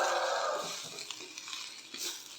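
Small onions and ivy gourd sautéing in a pan, a brief sizzle at first that settles into soft stirring scrapes and light clinks of a spoon.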